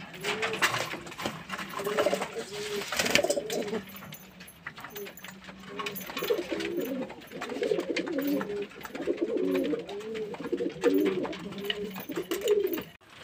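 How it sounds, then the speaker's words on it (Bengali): Pigeons coo steadily in a low, throaty burble, several birds overlapping as they wait eagerly for feeding, with faint voices and some rustling underneath. "দেখুন বন্ধুরা, পায়রাগুলো খাওয়ার জন্য কেমন করছে"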